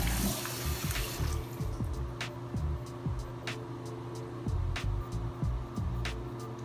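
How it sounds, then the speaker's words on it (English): Water gurgles and trickles steadily down a just-unclogged sink drain, with scattered drips and low glugging pulses, recorded close up. "You see how quickly everything drained out?"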